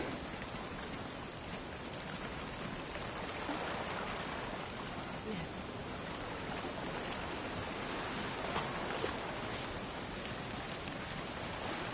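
Steady rain in The Last of Us Part II, a continuous even hiss of falling water with no breaks and no talk over it.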